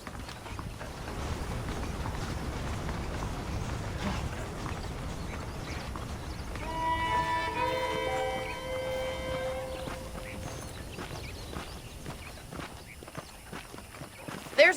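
Horses walking in a Red Dead Redemption ranch scene, hooves clip-clopping steadily with creaking tack and saddle noises, a brief run of tonal game sounds in the middle, no speech over it.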